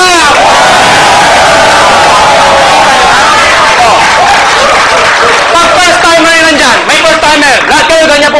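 A seminar audience claps and cheers loudly, with whoops and shouting voices riding over thick, continuous applause very close and intense throughout.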